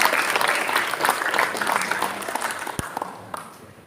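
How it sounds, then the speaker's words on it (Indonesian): An audience at a Betawi pantun festival claps, a dense burst of applause that fades gradually over a few seconds. "Beri tepuk tangan yang meriah bagi kita semua."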